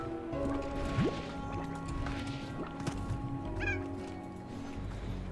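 Chickens cluck and squawk in the Glass Desert area of the video game Slime Rancher, with short, faint calls scattered over a soft ambient game soundscape.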